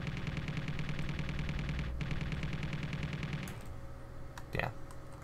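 Rapid automatic fire from a spaceship's weapons in the Space Engineers game pounds steadily for about three and a half seconds, then breaks off into scattered sharp impacts and a brief burst.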